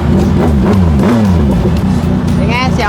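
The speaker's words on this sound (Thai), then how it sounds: "เดี๋ยวฟังเสียงรถน้องนะ" Sport motorcycle engine revs hard in rising and falling sweeps, loud and close, with a brief talking voice in the mix.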